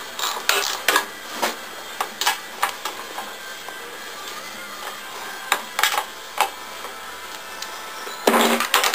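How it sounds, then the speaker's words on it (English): A ratchet loosening the mounting bolts on a Briggs and Stratton lawn engine carburetor, producing a series of short, close mechanical clicks and clacks in irregular bursts, with quiet gaps between and no voices. "Once you've got them loose, you don't need this actual ratchet anymore."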